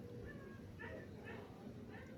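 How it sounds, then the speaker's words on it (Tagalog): Two dogs bark and whimper at visitors arriving at a rural home in Tanay, Rizal, with a few faint yips and barks under people talking. "Ito yung bumungad sa amin. 2 aso."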